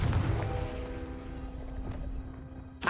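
A Confringo blasting spell in Hogwarts Legacy bursts with a booming impact that decays into a humming, ringing tail, followed by a sharp crack at the very end.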